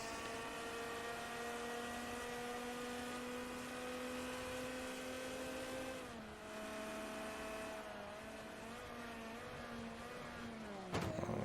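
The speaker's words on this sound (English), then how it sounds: "Listen to that Ferrari go." A Ferrari 355 Challenge race car laps a circuit, its engine holding a high steady whine that drops as it shifts or eases off, heard from a distance and fairly faint, with no voices.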